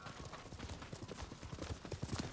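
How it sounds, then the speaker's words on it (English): A horse's hooves clip-clop at a steady trot in the Ghost of Tsushima video game, a quick even rhythm of soft thuds, moderately close but fairly quiet. "By the time our horse catches up to us"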